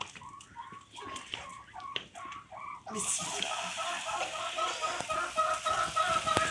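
Several chickens cluck and squawk in the morning in a Pakistani desert village, in short, repeated bursts, growing busier and louder partway through, with a steady background murmur.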